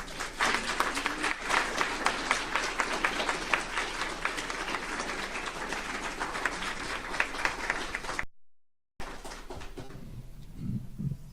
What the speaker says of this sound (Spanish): el aplauso implica una felicitación a él